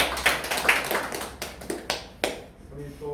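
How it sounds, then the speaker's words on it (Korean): Applause at a committee meeting of a retired local civil servants' association in a small meeting room: a handful of sharp, scattered claps close by, mixed with voices. "박수를 좀 크게 치십시오"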